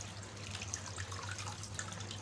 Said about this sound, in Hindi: अब हमने इसमें खुला पानी डालना है, सादा पानी जो हम यूज़ करते हैं घर में।